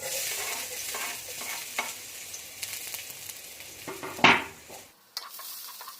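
Garlic frying in cooking oil in a home kitchen, a steady close sizzle with brief stirring clatter, then a sharp hiss burst near the end before it quietens, with no talking.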